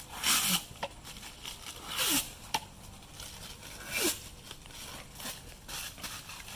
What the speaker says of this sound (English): let me peel this off. You gotta peel both sides off before you put it in.